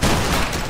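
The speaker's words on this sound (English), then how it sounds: "Line opposite us, make ready, take aim. Hold it right face. Make ready, take aim. Fire." A musket line volley in the video game Battle Grounds III, one loud close burst of massed gunfire cracking at once and rolling briefly off.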